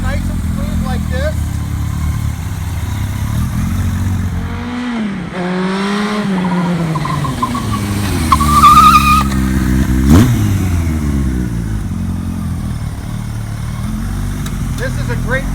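A 1980 Kawasaki KZ1000 LTD motorcycle engine runs steadily up close, a smooth idle with rising and falling revs, a couple of throttle blips midway, and someone talking over it.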